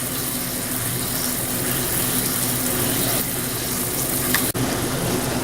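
Beef pieces sear in a hot pan for a stir-fry with broccoli, giving a steady, loud, close sizzle that runs without a break and has a brief clatter near the end.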